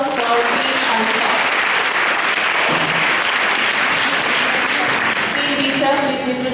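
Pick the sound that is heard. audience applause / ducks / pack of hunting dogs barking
audience applause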